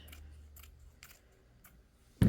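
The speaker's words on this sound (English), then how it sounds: "I'm just going to run my scissors across here." Scissors snip through stained fabric trim cut from a repurposed garment: several faint, close cuts spaced evenly apart, then a louder burst of cutting at the end.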